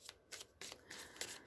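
Tarot cards shuffled by hand in a quick series of crisp riffling bursts, close and fairly quiet, with short pauses between them and no talking.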